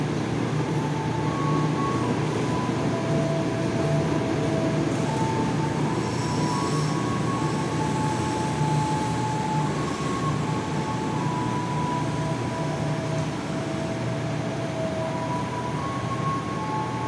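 A commuter train in Indonesia bound for Yogyakarta station rolls steadily, with a continuous loud rumble of wheels and carriage and faint sustained tonal whines throughout, no voices.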